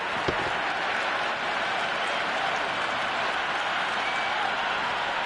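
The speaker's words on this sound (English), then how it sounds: "It's the most enthusiastic crowd you could ever see right now. There's a buzz, a real buzz coming from the stands." A big stadium crowd at a Cricket 26 video game match cheers and applauds in a dense, continuous roar of clapping and buzz that holds steady throughout.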